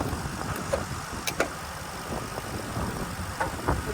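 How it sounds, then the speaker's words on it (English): A car engine idles smoothly at a salvage auction lot, a low, steady rumble heard up close with a few faint knocks and clicks over it and no talking. "engine is running very smooth"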